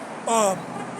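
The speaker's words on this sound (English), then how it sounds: "That's honking" A car horn gives one short, loud, steady honk lasting about a quarter second, standing out over a background of voices and street noise.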